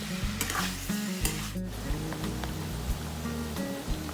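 Fatty pork pieces sizzle and crackle in hot oil while being rendered into pork cracklings, a busy popping hiss with occasional scraping and clanking of a utensil in the pan.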